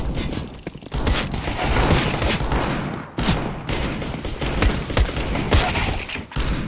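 Rapid, loud bursts of gunfire crackle almost nonstop during a competitive CS:GO match on the Nuke map, with short pauses between the volleys.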